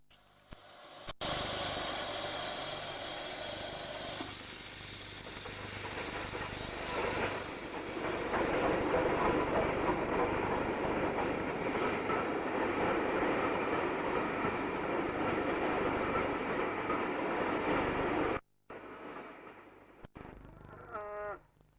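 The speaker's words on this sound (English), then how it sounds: "A very dirty A4 Mars Beaver on a King's Cross train passing the pump house" A dirty A4 steam locomotive hauling a King's Cross train rumbles past close by near a York pump house, a sustained loud roar of engine and wagons building then cutting off abruptly, followed by quieter ambient noise.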